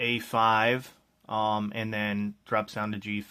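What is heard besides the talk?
None of the usual background noises is heard.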